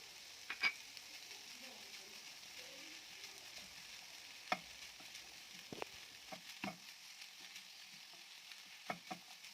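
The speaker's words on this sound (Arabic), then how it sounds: "هننزل بالجزر بتاعنا كده ونبدأ نشوحه برضو لحد ما يدبل مع الفراخ بتاعتنا" Grated carrot sautéing with chicken in a pan, giving a steady soft sizzle and frying hiss. A few sharp clicks and scrapes from stirring break through it now and then, and no one speaks.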